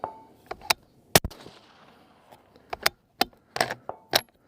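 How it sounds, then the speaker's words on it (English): A 25 Creedmoor rifle firing 135gr Berger Hybrid rounds downrange at long-range targets: several sharp, loud cracks at irregular intervals, each with a short echoing tail over quiet outdoor background. "Let's go ahead and keep throwing some rounds downrange."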